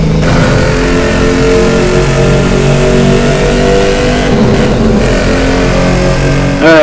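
The engine of a Mosler GT3 race car in Asphalt 8 roars loudly and steadily at high revs, a dense droning whine that holds throughout and ends with a rising pitch sweep.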